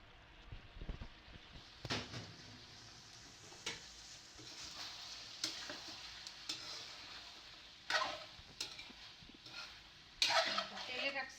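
Mixed vegetables with dried suri fish sputter softly in oil in a pot, with intermittent stirring scrapes and clinks of a utensil against metal and faint sizzling between them.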